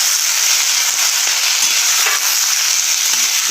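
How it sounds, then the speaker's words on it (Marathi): Onion and tomato roast in a pan for green chili thecha, making a loud, steady, dense sizzle that continues without a break. "कांदा पण थोडं व्यवस्थित भाजल्यानंतर आता टोमॅटो पण घालून घ्यायचे आहे मला पण चांगलं व्यवस्थित भाजून घ्यायचं"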